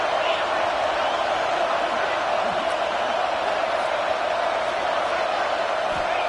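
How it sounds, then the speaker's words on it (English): A home crowd roars continuously at a college football game, a dense, loud wall of cheering and noise filling the whole span without a break. "These fans are going absolutely nuts."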